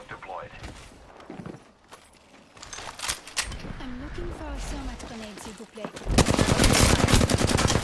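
Rapid automatic gunfire in the Apex Legends battle on Storm Point, with bursts rattling through the first half under a talking voice, then a dense, loud sustained volley near the end.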